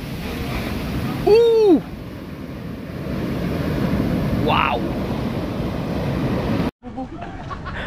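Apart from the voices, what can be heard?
large ocean waves crashing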